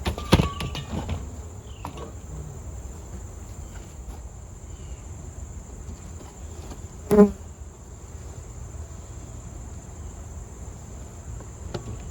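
Honeybees humming steadily around an opened backyard beehive, a close, continuous insect buzz with a few louder passes near the listener and a soft thump partway through, with no speech.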